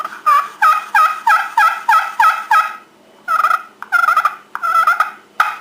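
A friction turkey call worked with a striker gives a rapid series of sharp, raspy yelps, about eight in an even rhythm, then a pause and several more broken clucks and yelps, loud and close with no talking.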